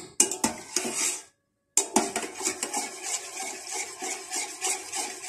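Melted pieces of used beauty soap stirred in a metal pot with a utensil that clinks and scrapes against the sides in quick, close, irregular strokes, broken by a short pause.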